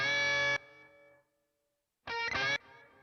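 Bursts of distorted, processed tone from a Boz Digital Labs Smear effect cut off sharply, each followed by a faint smeared reverb tail on the delays before near silence and another burst.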